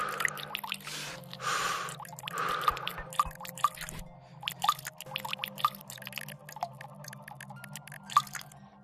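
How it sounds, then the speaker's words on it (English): Water drips inside a cave, with scattered clear drops falling at an irregular rhythm against a steady low hum, punctuated by a few breathy sounds. "Ooh, water."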